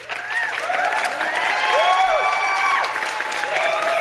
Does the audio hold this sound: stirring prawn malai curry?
no